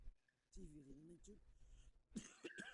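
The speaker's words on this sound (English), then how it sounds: "Sorry for the cough." Someone speaks briefly, then clears his throat and coughs twice in quick, rough bursts near the end.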